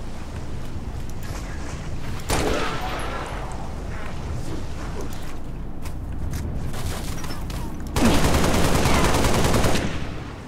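Gunfire in the video game Halo Reach, dense and noisy, with a loud burst early, steady battle noise through the middle and a heavier volley toward the end, voices chattering underneath.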